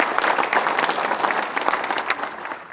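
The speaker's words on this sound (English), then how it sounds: "help me give them a little round of applause." A modest round of applause for board members at a company gathering, scattered clapping from a room of people that stays fairly even for a few seconds and tapers slightly at the end.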